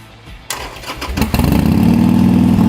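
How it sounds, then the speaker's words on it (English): A Harley-Davidson motorcycle on rollers starts up with a cranking burst, catches and settles into a loud, steady, close-up idle rumble. "Go ahead and start the machine by pressing the ignition switch, which is right here."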